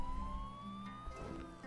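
A fire truck siren in the bridge-building video game Poly Bridge 2, a steady rising wail over low vehicle rumble, fairly faint and brief, with no talking.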